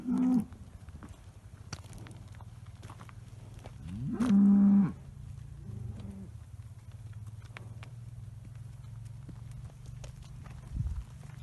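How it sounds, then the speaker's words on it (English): A dairy cow in a milking herd moos loudly and close by in one drawn-out call, with a couple of quieter lowing sounds before and after over steady barn noise. "So the next cow is her Hilltown Glacier."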